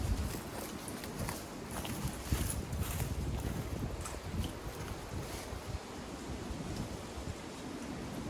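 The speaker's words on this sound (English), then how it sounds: "I apologize in advance if there is wind noise" Steady, heavy wind buffeting the microphone, a continuous rough roar with occasional gusty bumps throughout.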